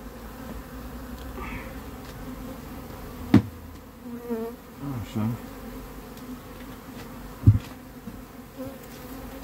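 Honey bees buzz steadily around a hive during a black locust honey harvest, a dense continuous drone with individual bees passing close by, plus a few knocks.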